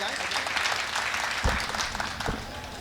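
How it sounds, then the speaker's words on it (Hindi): Audience applause at a municipal poetry gathering in India, dense clapping with crowd noise and voices mixed in, moderately loud and sustained, with a couple of low thumps. "एक बार जोरदार तालियां आप भाई पंकज पंडित के सम्मान"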